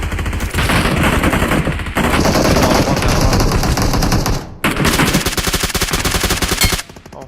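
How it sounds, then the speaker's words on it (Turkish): Gunshots fired into the air ring out in loud, rapid bursts that form near-continuous volleys of overlapping cracks, with a short break in the middle and a sudden stop near the end. "Havaya fişek abi."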